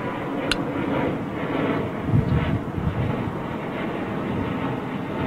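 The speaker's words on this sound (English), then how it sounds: "another Virgin going over for storage" A Virgin jet airliner passes overhead at Heathrow with a steady, broad engine roar that swells slightly midway, heard at a distance with some wind buffeting on the microphone.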